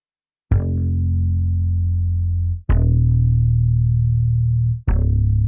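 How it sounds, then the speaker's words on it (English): Three sustained electric guitar chords, each struck and left ringing with a slightly gritty, distorted edge and bright overtones, one after another. "this little touch of distortion that it adds to the sound"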